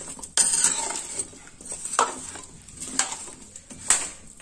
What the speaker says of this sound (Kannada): ಇದರ ಕಲಡಿಸ್ತಾ ಇರ್ಬೇಕು ಸ್ವಲ್ಪ ಹೊತ್ತು.